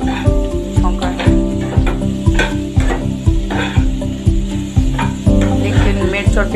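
Spices sizzle as an instant homemade pickle is tempered with asafoetida, a loud, steady frying hiss with stirring scrapes over a regular pulsing background.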